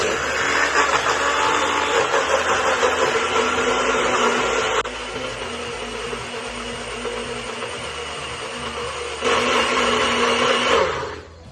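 A blender whirs steadily at high speed while blending green pesto, loud and close. The pitch drops briefly midway as the load shifts, then it rises again before the motor cuts off.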